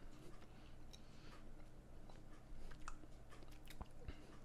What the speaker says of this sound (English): just gonna see if I can just chew it a bit